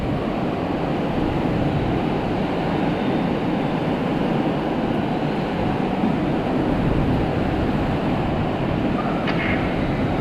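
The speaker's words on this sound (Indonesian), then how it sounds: "Hujan angin" Heavy rain and strong storm wind in Manding, Trirenggo, Bantul roar as a dense, continuous broadband wash, loud and unbroken throughout with no voices.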